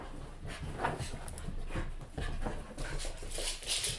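A dog whimpers and pants indoors, soft breathy huffs and faint whines in an irregular rhythm, moderately close with no talk over it.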